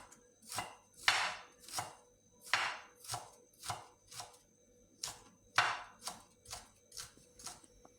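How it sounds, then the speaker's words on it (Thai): A knife finely chops ginger on a cutting board, a dozen or so crisp close strikes in a quick, even rhythm. "ขิงก็มาหั่นฝอยนะคะ"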